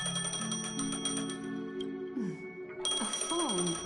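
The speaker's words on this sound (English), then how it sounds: "And then the phone call." A phone rings in Honkai: Star Rail, a synthesized ringtone of sustained bell-like tones and sliding melodic notes over game music, loud and continuous with a brief dip in the middle.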